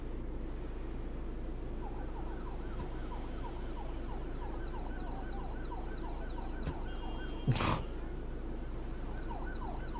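An ambulance siren sounds in the Emergency 4 game during multiplayer play, with repeating warbling wails held steadily over a dense background of traffic and engine noise, plus one brief louder burst near the end.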